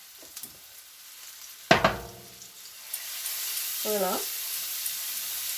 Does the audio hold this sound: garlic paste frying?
yes